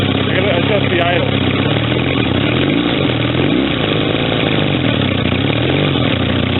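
A 1965 Honda CB160 motorcycle engine runs rough and uneven through loud, raspy mufflers, a steady close-up rumble with no settled idle that continues for the whole stretch, with people talking over it.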